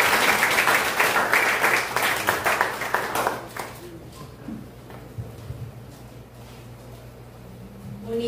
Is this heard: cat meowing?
no